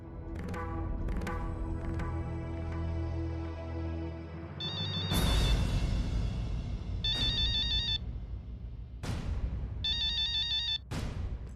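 A telephone ringtone rings in repeated electronic bursts, clear and close, alongside swelling dramatic music with sharp hits in a Hindi TV drama scene.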